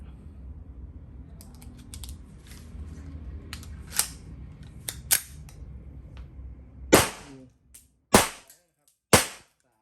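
An M1911-style blank-firing pistol, a Kuzey Colt's 9 P.A.K. centennial model, fires three sharp, loud shots in quick succession after a stretch of quieter handling clicks and rustling, each crack cutting off into near silence.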